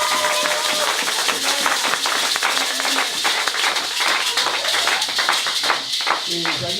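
A church congregation claps at a French-language worship service, dense fast applause with rhythmic hand claps filling the room while voices call out over it.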